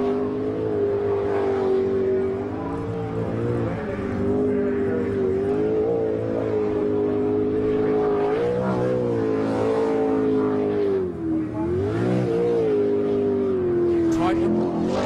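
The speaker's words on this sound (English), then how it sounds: "500 cubic inch small block up against the 540 monster small block with Peter Cowie." A jet sprint boat's 540 small-block engine roars loud and sustained during a 2009 World Jetsprints race, its pitch rising and dipping slightly as it races, with an announcer talking over it.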